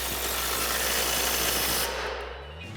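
A 21mm socket snugs down a shock absorber bolt on the front end of a RAM 2500 with a FOX 2.5 shock, giving a steady close rasping, ratcheting grind that fades out near the end with no talk.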